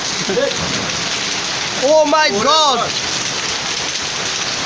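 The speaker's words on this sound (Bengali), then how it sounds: "প্রচুর প্রচুর বড় বড় শিলা পড়ছে" Heavy rain and large hailstones pelt down in a dense, constant hiss while an excited voice cries out over the downpour.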